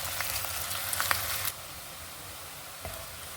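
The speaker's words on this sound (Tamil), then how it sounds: "வெங்காயம் நல்லா ப்ரௌனாக வேகட்டும்" Chopped onions frying in a pan for chicken biryani, spiced with cloves, give off a steady close sizzle that is louder for the first second and a half, then settles into a softer, even hiss.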